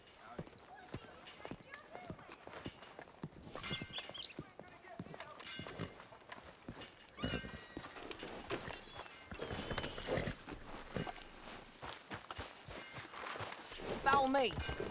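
Horse hooves clop in a steady trotting rhythm in Red Dead Redemption 2, close and clear, while voices talk over them and other game sounds come and go.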